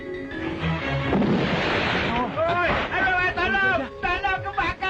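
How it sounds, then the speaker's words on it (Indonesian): Firecrackers set off at midday during an action-film shoot, heard as a loud, dense crackling burst with shouting voices and commotion layered over it. "Siang-siang bakar petasan."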